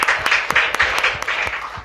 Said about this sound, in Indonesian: Berikan tepuk tangan terbaik untuk Tuhan kita